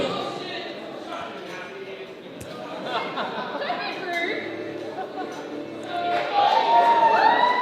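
A live crowd at a Mayhem Pro wrestling show murmurs and cheers, building louder toward the end. Shouts and chatter swell under a commentator talking throughout.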